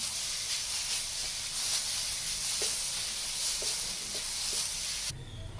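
Finely chopped green onion frying in oil in a pan, a steady bright hiss and sizzle with a few soft stirring clicks, cutting off abruptly near the end; no talking.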